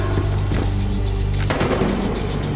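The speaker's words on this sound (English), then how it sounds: "Shots fired! Shots fired!" Gunfire in the police shooter Battlefield Hardline, a dense burst of shots and crackling fire with a heavy boom partway through, loud and close over constant game ambience.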